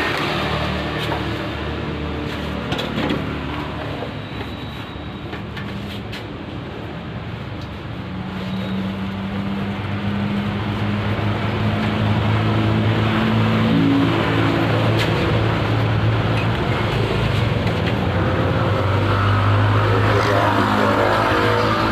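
A RYU VR Black 33 HP ketinting boat engine runs continuously, a steady droning rumble with shifting pitch as it revs up and down, loud and close for the whole stretch.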